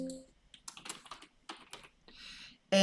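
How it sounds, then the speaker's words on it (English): Computer keyboard keys are pressed in quick, irregular bursts of clicks, close and fairly quiet, with a brief louder tap at the end. "if I press tab on my keyboard, I move forward"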